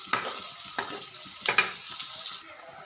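Vegetables for a Bengali labra fry in a pan over a high gas flame, a close, crackling sizzle broken by a few sharp pops and stirring clatters.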